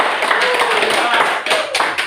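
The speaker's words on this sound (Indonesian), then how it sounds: "Tepuk tangan buat kalian." Students in a classroom clap together, scattered hand claps heard under a teacher's voice for about two seconds.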